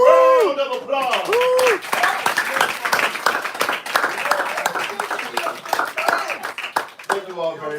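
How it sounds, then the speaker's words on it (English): A school audience breaks into loud, sustained applause and clapping for several seconds, dense and close, with voices sounding at the start and end. "Give yourselves a round of applause."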